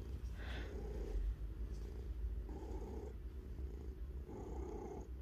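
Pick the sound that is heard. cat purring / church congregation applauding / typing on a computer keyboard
cat purring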